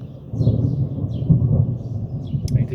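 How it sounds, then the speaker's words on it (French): Thunder rumbles through a violent thunderstorm over Pertuis in Provence, a loud, sustained low roll lasting the whole moment, with faint bird chirps above it. "Bon orage"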